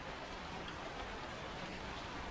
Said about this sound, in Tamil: மழை நிற்கிற மாதிரி தெரியல